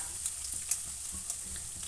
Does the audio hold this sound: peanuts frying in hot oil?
yes